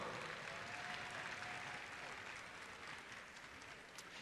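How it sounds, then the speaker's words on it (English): Audience at a community college commencement ceremony applauding in a large arena, a faint, distant wash of clapping that stays steady throughout. "Would you applaud?"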